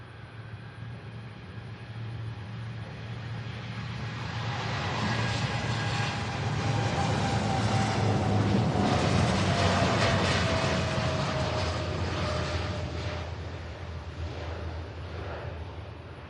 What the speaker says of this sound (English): Absolutely beautiful takeoff.